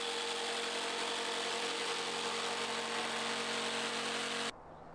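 A jigsaw cuts through a box truck ceiling panel along a marked line, a loud, steady buzzing drone that runs nearly five seconds before stopping abruptly.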